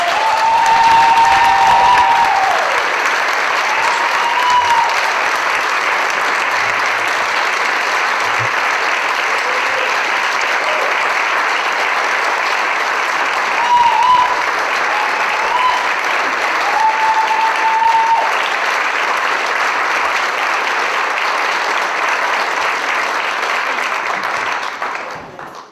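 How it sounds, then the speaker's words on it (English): Long, steady round of conference audience applause welcoming two speakers to the stage at a recovery leadership event, a dense even wash of many hands clapping that fades out at the end. "Thank you very much for your applause"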